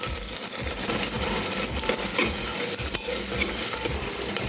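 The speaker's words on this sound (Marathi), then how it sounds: "त्याच्यात आपण राई टाकूया, जिरे, तर बारीक कापलेला कांदा," Chopped onion, mustard seeds and cumin sizzle steadily in hot oil inside a pressure cooker, a dense continuous crackle with faint stirring clinks running close and loud throughout.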